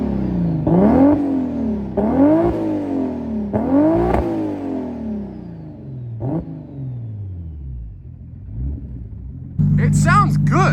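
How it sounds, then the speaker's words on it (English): A Nissan 300ZX with a swapped 2JZ-GTE engine and a drag pack revs repeatedly outside the car, each sharp rise falling back to idle, with the blips growing softer before a final loud rev. "Let's rev it up. I'll let you guys hear how it sounds if there's any difference outside the car."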